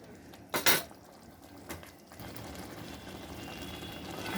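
A metal spoon clanks twice against a pot, then a low sizzle and scraping continue as spice paste with kasundi and tomato is stirred and fried with prawns.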